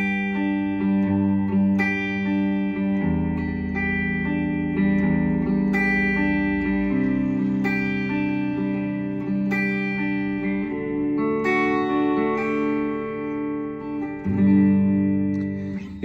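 A guitar plays the chord progression of a song, with the bass note moving along with each chord change, sustained tones ringing clearly and alone.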